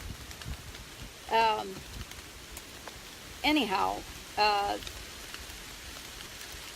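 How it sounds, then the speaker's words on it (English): Heavy rain falls outdoors as a continuous dense hiss throughout, with someone talking briefly over it in short bursts. "It's really coming with some rain now."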